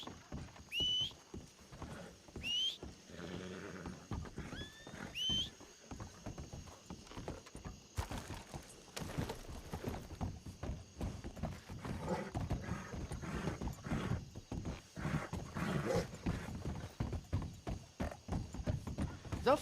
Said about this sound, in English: I'm gonna take my horse.